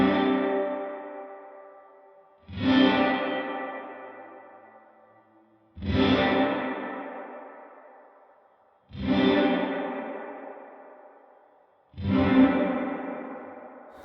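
A Line 6 Helix Dynamic Hall reverb at full mix, its motion setting being swept, washes each of five evenly spaced struck notes into a long, slowly decaying tail. The hall blooms large and moderately loud, and no one speaks.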